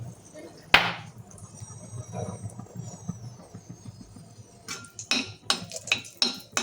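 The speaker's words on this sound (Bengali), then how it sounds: "ফট করে কিন্তু লঙ্কাটা ফাটাস করে ফাটলো একদম কালী পক্ষের মতো" A dried red chilli frying in hot oil bursts with a single sharp, loud pop early on. Soft crackling and occasional clatter follow over a low background rumble.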